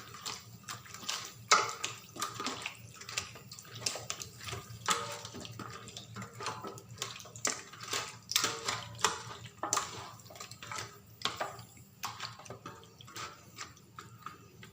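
Chicken for barbecue is mixed by hand in its marinade, giving soft, wet squelching and tapping strokes in an uneven rhythm, close and fairly quiet.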